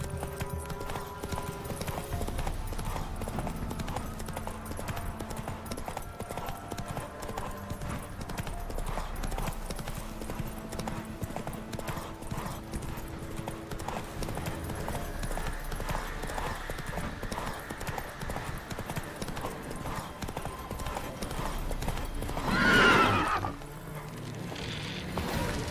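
Horse hooves clip-clopping at a fast, steady gallop in The Witcher 3, a dense continuous beat under game music, with a brief whinny-like swell near the end.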